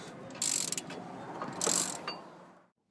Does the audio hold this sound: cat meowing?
no